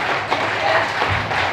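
A church prayer congregation claps for the Lord, a busy patter of hands with some thuds and taps, moderately loud and continuous.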